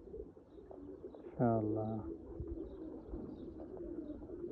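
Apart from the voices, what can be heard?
pigeons cooing, Teddy pigeon pair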